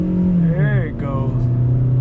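A 2013 Chevy Spark LT compact car pulls away, its engine hum rising in pitch as it accelerates, steady and fairly close throughout.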